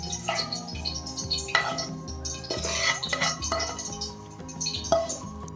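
Garlic sev murmura, puffed rice with sev, peanuts and garlic chutney, is mixed by hand in a metal bowl, giving close rustling and crunching with light clinks of the dish.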